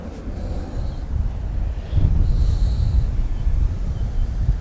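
Strong wind roars against the microphone on a golf course, a deep, steady rumble that swells as gusts push harder.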